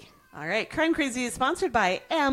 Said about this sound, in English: that is my cat in the background and not a child